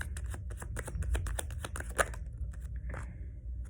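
Tarot cards are shuffled in a quick run of crisp riffling flicks, then a pause and a soft slide as a card is drawn, close and fairly clear with no talking.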